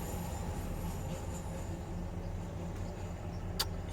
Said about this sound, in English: Streetcar. Nobody on it.